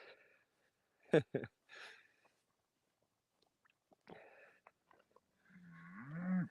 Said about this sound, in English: Sounds like we got a cow that might be off over the hill back there.